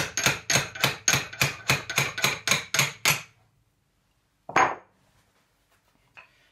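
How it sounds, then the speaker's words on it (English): A hammer strikes repeatedly to knock a woodturning tool blade out of its handle held in a vise: about a dozen quick, evenly spaced sharp blows, then silence, one more louder hit and a faint tap. "stick it in the vise and whack it off with a hammer"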